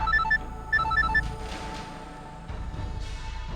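A telephone rings in short electronic trilling bursts, two quick rings followed by a soft rumble and faint background noise.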